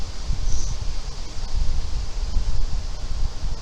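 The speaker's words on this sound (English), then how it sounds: "wind in the background is not helping" Wind buffets outdoors during bubble-wand making, a loud low rumble of gusts against the microphone rising and falling throughout with faint rustling, no speech.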